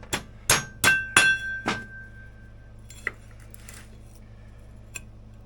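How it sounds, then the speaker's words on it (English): Several sharp metallic hammer blows on a chisel against the steel retaining ring of a vintage Polaris P85 snowmobile drive clutch, one ringing on, followed by a couple of fainter ticks and taps in a quiet workshop. "Now I'm on that steel retaining ring with the chisel."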